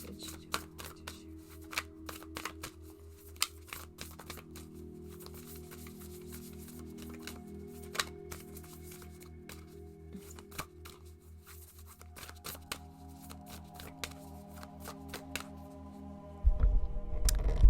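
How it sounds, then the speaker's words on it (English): An oracle card deck is shuffled by hand, giving a steady run of soft, rapid riffling and tapping clicks, close and fairly quiet, with a louder shuffle near the end. "let's pull a card from my shadow deck, the Lantern Oracle"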